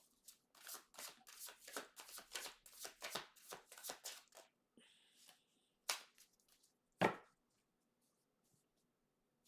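Tarot cards are shuffled in a rapid run of close, crisp riffling flicks for several seconds. Then come a few separate sharp slaps as cards are set down, and quiet follows.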